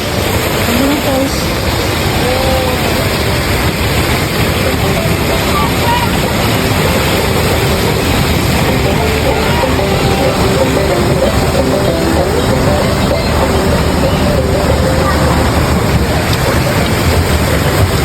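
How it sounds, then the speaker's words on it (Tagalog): A waterfall on Tom Sawyer Island at Tokyo Disneyland pours in a loud, unbroken rushing roar, with people talking faintly beneath the steady wash of water. "Ayan ang falls."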